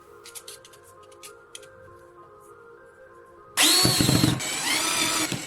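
Power drill driving screws into a triple plastic pipe fitting in a workshop: a low steady hum first, then a sudden loud, gritty whirring burst that continues strongly to the end.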